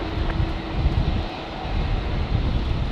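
A Coast 986 aircraft on final approach at a windy Brisbane Airport, heard as a distant low, steady engine rumble mixed with wind buffeting, with no talking.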